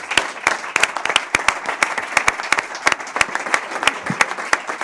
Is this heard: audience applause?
yes